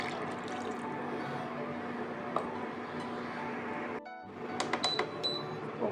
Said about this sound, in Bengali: এবার দিয়ে দেবো এই স্টকটা পুরোটা। আর আমি অ্যাড করব 1 কাপ মতো জল।